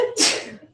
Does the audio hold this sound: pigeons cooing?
no